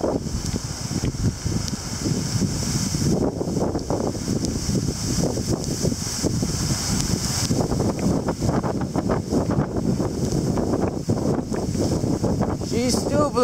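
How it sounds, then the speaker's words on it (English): Strong storm wind roars steadily across the microphone during an October wind storm with small hail and heavy rain, a loud continuous buffeting rumble with gusty swells throughout. "I still hear the wind way down there, still blowing."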